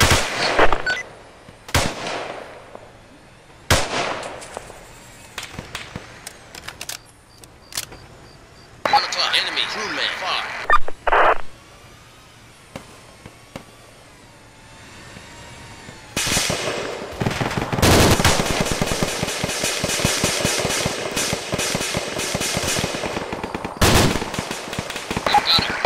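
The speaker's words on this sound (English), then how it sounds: "Enemy machine gun" Bursts of machine gun fire and scattered gunshots from an ArmA combat scene, sharp loud volleys separated by quieter gaps and then a sustained rattling stretch, with radio-style voices calling out between the shots.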